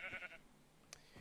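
A sheep bleats in the Minecraft video game, a single short synthetic bleat near the start, followed by quiet background and a brief click.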